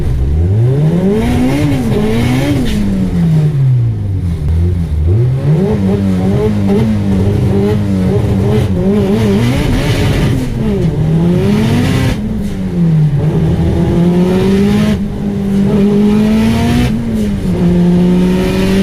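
Honda Civic with a fully built LS VTEC engine on a drag strip, loud and close, revving hard in rising pitch sweeps that repeatedly stutter and drop as it hits the fuel or boost cut, then climbs again.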